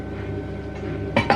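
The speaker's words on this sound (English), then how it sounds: "Oh, we've got some good pots and pans" Metal pots and pans clank together in a kitchen, two sharp close clinks near the end after a low steady background hum.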